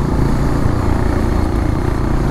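A Bajaj Dominar motorcycle rides along an open road, its engine droning loud and steady with constant low rumble and wind, no voices.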